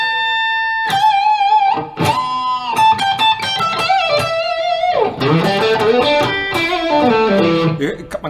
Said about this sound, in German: Ich mache jetzt noch einen Tube Screamer hinzu.